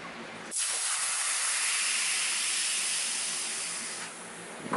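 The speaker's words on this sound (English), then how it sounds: "So what you heard was air from within the hose and also the self-healing rubber tube." Pressurized nitrogen rushes out of a hose and self-healing rubber tube from a shock absorber at 250 psi, one loud continuous close hiss lasting several seconds before cutting off, no talking.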